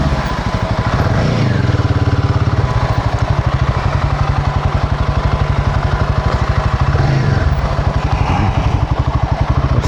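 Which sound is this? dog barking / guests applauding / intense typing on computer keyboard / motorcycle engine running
motorcycle engine running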